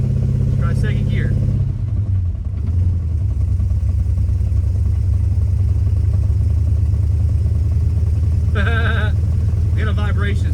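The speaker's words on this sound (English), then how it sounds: "We got a vibration. It's probably the drive shaft that I made." A 1958 Plymouth barn find driving very slowly in second gear with a vibrating homemade drive shaft gives a steady, loud low engine drone throughout, with brief voices near the start and end.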